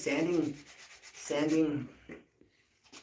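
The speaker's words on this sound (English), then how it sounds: "It's not sandpaper, this is a fiber for sanding" Two long, scratchy rubbing strokes of sanding with a 180-grit fiber sanding mesh, followed by a few lighter, quieter scrapes and brief pauses.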